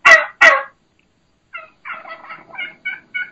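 A wild turkey hen gives high-pitched calls: two loud, sharp yelps up front, then after a short pause a quicker, fainter string of clipped notes.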